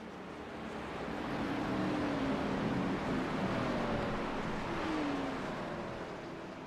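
Race cars at Talladega Superspeedway pass through turns one and two, a broad engine roar swelling to a peak midway, then easing, heard from a distance with no talk.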